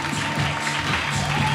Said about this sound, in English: everyone, with a round of applause